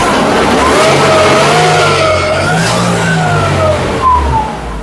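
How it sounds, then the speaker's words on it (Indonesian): A Mercedes-Benz W202 C230 Kompressor engine revs up and down with a loud, rising and falling high-pitched supercharger whine over a deep engine rumble, the quiet exhaust letting the whine dominate. "karena knalpotnya nggak berisik, jadi suara siulan superchargernya itu kedengeran banget"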